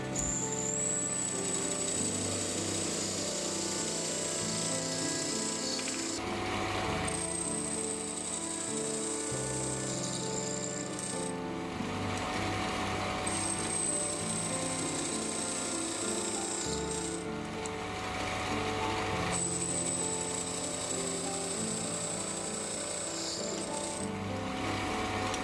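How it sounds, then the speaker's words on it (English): A mini lathe bores the inside of an oversize hand wheel, a constant loud machine drone with a high whining cut that repeats in several long passes, close and continuous. "I'll finish up by boring the inside for the head of the machine screw"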